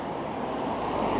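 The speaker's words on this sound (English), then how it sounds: "Sorry about the traffic noise." Road traffic on a Blackpool street lined with boarded-up buildings, a steady, fairly loud broadband rush of passing vehicles that fills the whole short stretch without pause and with no voices.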